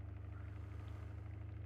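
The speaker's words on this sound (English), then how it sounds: "Nice another bus passes through." A bus drives past in Farming Simulator 22 on Italian farmland: a steady low engine drone with a rhythmic pulsing throb holds throughout, fairly loud and close, with no voices.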